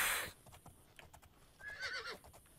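Horse in the video game Oblivion neighing, a short whinny near the end following faint hoof clip-clops and clicking keys, fairly quiet overall.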